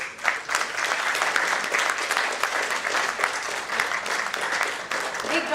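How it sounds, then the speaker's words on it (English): Steady, dense applause from an audience at an award ceremony, loud and continuous with no pauses. "Big round of applause for them"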